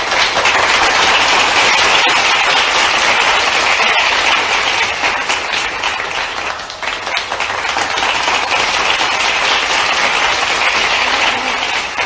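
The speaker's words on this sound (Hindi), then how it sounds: "जोरदार तालियां।" Loud, dense applause from a large crowd at a political rally in Jabalpur, a steady roar of clapping that runs unbroken for the whole stretch with no talk over it.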